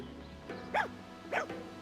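Two short barks from a dog in the video game Fire Emblem Engage, spaced about half a second apart, clear over a quiet background with faint game music.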